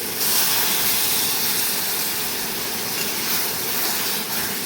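Tomato and poppy seed paste simmering in a pan, a continuous dense hiss and bubbling that stays steady and fairly loud throughout.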